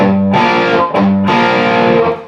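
A distorted electric guitar plays the ending of a song, with a few loud, close chords struck one after another, each ringing out thick and sustained before the last one fades, heard alone.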